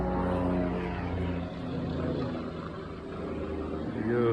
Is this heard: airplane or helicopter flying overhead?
yes